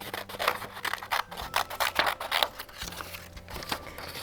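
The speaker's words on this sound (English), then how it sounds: "I've cut out one bunny ear, and I'm gonna just cut out another one" Scissors cut a bunny ear out of a paper plate, making a close series of crisp, rhythmic snips and rustles of the paper.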